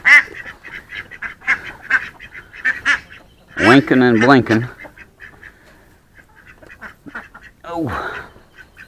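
A mother duck in a farmyard gives loud, raspy quacks and honks in short bursts, close by, interleaved with a person talking to the animals.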